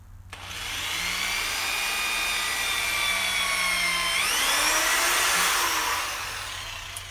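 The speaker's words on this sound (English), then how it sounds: "I cut the head off a nail and put it in my drill motor, and it's gonna drill them holes in that wood just fine." A drill motor fitted with a headless nail as its bit bores holes in wood, giving a steady high whine that rises in pitch partway through before easing off, loud and close, with no talk.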